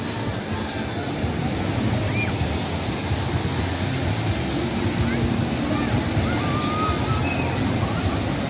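Sea waves washing onto the windy beach at Mui Ne, Phan Thiet, a steady loud surf roar blended with gusting wind, with faint distant voices and calls in the background.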